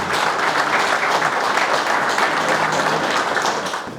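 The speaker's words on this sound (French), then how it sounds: "Je vous prie de accompagner les pas de Madame la Présidente à des applaudissements." Loud, dense applause from a conference audience at an architecture event fills the whole stretch steadily, easing slightly at the very end, with no talk over it.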